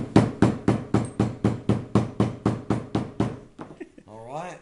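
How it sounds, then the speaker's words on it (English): A small hammer taps a glued contact-adhesive joint: about fifteen even, crisp knocks in a steady quick rhythm, close and clear, followed by a few softer taps and a voice starting to speak. "now what I normally do, I've got my little magic hammer"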